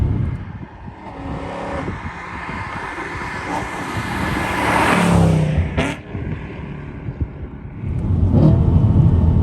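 A BMW E92 M3 engine revs and roars, rising in pitch then dropping back, with a loud throaty surge near the end; no talking.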